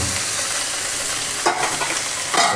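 Pieces of pork fat fry in a hot pan, rendering out their grease with a loud, continuous sizzle and a few brighter bursts of spitting near the end.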